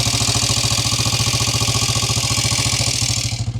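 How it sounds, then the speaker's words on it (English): A 1960 Norton Model 50 350cc single-cylinder motorcycle engine running near the listener with a fast, even exhaust thump, smooth and steady, easing off slightly at the very end, no talk. "They're a really nice, smooth sounding motor."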